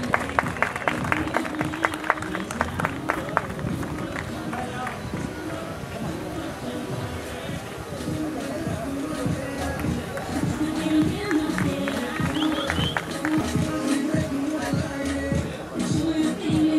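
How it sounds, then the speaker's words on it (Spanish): A crowd applauding at a motorcycle road-racing event, a continuous wash of clapping with chatter and a voice speaking over it throughout. "El aplauso, gracias."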